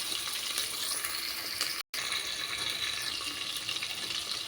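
Onions and green chillies sizzle in hot oil with curry leaves for a bitter gourd curry, a continuous close hiss with a brief cut-out partway through and no voices.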